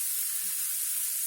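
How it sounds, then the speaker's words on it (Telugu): Cluster bean pieces frying in a pan with chili powder, heard as a brief steady high hiss of sizzling oil with a faint low bump partway through, no voices. "ఇవి బాగా కలిపి 1 నిమిషం ఇలా వేయించుదాం."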